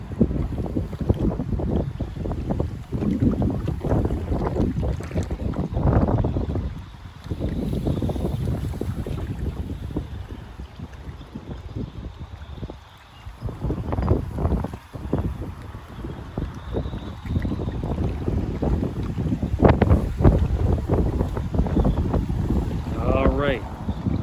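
Boats and wind at a marina on Lake Ramsey in Sudbury, Ontario: steady gusty wind buffets the microphone alongside low rumbling boat and water noise, continuous and fairly close throughout.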